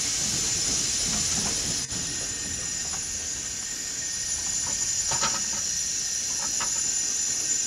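A steam locomotive on the North Yorkshire Moors Railway gives a continuous loud steam hiss, with a few faint metallic clicks and knocks underneath and no voices.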